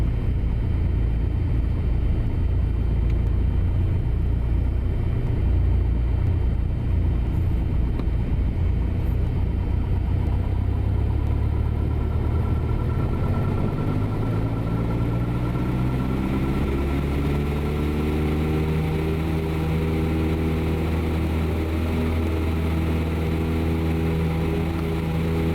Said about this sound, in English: And now I'm going to be quiet and just listen to all these engine sounds.